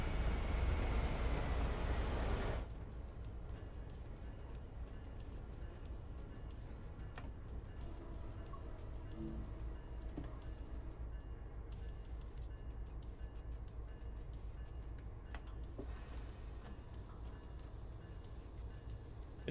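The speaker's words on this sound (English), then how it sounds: "That's pretty interesting to see the train shunting here." A commuter train shunts on an MBTA line in Train Sim World 5. A louder rumbling burst opens, then a steady mechanical drone with faint clanks runs on, and no one speaks.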